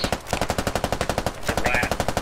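A sustained burst of rapid automatic gunfire in the military shooter game Squad, evenly spaced loud shots rattling off without pause for about two seconds.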